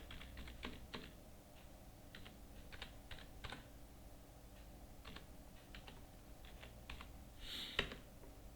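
Keys clatter on a computer keyboard at a desk while data is entered into accounting software, scattered taps and short bursts spread over the stretch at moderate, close level, with one sharper click near the end and no talking.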